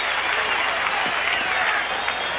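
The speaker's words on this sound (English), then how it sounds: "that brings the crowd alive here at Tampa Stadium" A 50,000-strong football crowd at Tampa Stadium roars and applauds in a dense, sustained wash of cheering that holds steady throughout, with a commentator's voice faintly mixed in.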